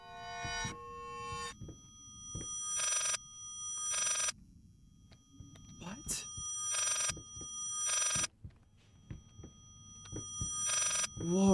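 A telephone rings inside the horror game Layers of Fear, an old-style bell ring in repeated short bursts separated by quiet gaps, over low eerie ambience and footsteps.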